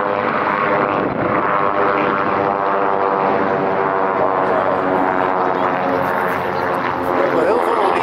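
A Douglas DC-3 Dakota's World War II-era piston engines and propellers drone with a steady, throbbing, harmonic hum, loud and close, while people talk over it.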